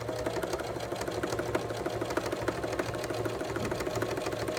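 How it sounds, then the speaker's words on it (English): A Baby Lock Pro sewing machine stitches fabric for a simple bag, a steady rapid mechanical whirring and clatter running close and continuous without speech. "you're gonna sew until the next corner"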